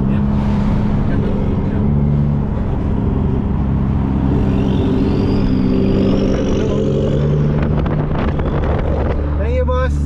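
Mitsubishi Lancer EX exhaust: a loud, steady low drone with wind buffeting the microphone, rising in pitch toward the end, with people talking over it.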